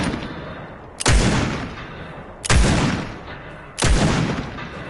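Three loud, booming gunshots from a Fortnite match, fired at roughly even intervals with long decaying tails, each blast sharp and heavy, with no talk over them.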